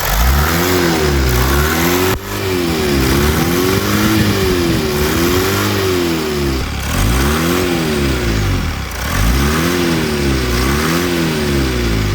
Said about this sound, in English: Adjál neki gáz, légy.